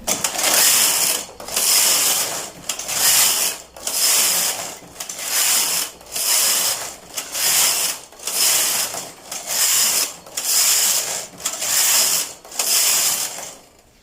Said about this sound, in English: I'm going to knit a couple of rows, about 50-60 rows